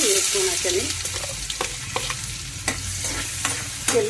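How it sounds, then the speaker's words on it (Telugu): Onion pieces frying in a pan while being stirred, with a continuous close sizzle and repeated scraping strokes of the spoon against the pan, no talking. "ఉల్లిపాయ ముక్కలు వేసుకుని వండుకుంటున్నానండి"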